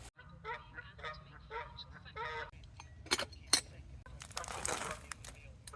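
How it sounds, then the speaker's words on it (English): Geese honk in a few scattered bursts at a distance, faint and intermittent, with a nearby clink and some quiet rustling, at an island wild camp on Loch Lomond. "Bloody geese."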